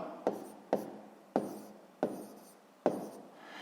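Pen or pencil strokes on paper while working a sixth-grade math division problem, five separate scratchy writing strokes at an uneven pace, close and quiet with no voice.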